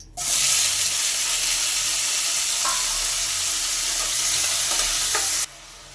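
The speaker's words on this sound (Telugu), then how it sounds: "ఆయిల్లో మనం ముందుగా కట్ చేసి పెట్టుకున్న టమాటాలను కూడా వేసి వేయించుకుందాం." Chopped tomatoes hit hot oil in a kadai and burst into a loud, continuous sizzle, with a couple of faint scrapes, before cutting off abruptly near the end.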